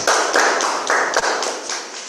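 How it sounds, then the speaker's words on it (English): Audience applause at a Toastmasters club meeting in Karachi, heard as a steady run of fairly loud, rhythmic claps from a small crowd, with no talk over it. "Please come on stage with a huge round of applause."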